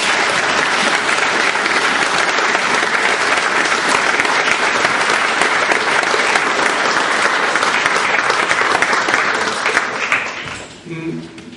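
Loud, dense audience applause at a Slovak school's 20th-anniversary academy event, honoring Michal, sustained for about ten seconds before fading out as a voice begins over the tail.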